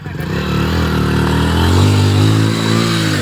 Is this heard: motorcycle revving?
yes